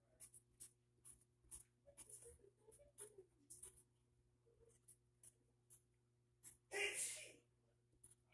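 A single sharp sneeze bursts out close by after a stretch of quiet, scratchy pencil strokes on paper during a drawing session.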